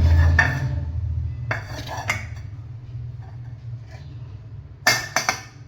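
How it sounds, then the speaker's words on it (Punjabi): A kitchen utensil falls and clatters: a low steady hum runs throughout, scattered metallic clanks occur early on, then a sharp burst of bright clanging and rattling near the end. "ਭਾਂਡਾ ਗਿਰ ਗਿਆ"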